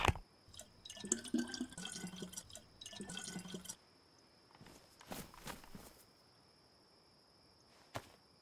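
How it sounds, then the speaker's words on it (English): A water pump in DayZ fills a bottle with faint dripping and trickling water, mixed with soft footstep-like clatter, quiet and close, no talking. "I found a water pump, so I'm going to just glug a bottle of water."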